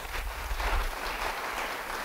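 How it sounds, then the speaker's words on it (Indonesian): Church congregation clapping during a sermon, a brief dense burst of applause with some low rumble underneath. "Beri tepuk tangan bagi Tuhan."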